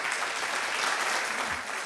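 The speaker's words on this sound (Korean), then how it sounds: "두 연주자분들께 감사의 박수 올리겠습니다" A concert audience claps for two performers, a dense, steady round of applause filling the hall throughout.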